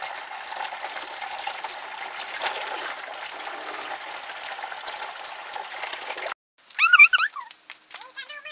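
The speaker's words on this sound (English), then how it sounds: "so let's fill it up with some water" Water gushes steadily into a bathtub in the Webkinz video game, a continuous rushing stream for about six seconds that cuts off abruptly, followed by a few short, high, chirpy game sounds.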